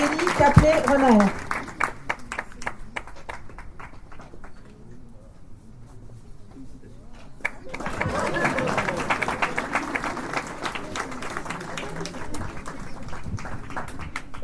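An outdoor crowd at a town square inauguration claps for people receiving sashes, with a voice over the opening claps, a quieter stretch of sparse claps, then renewed steady applause.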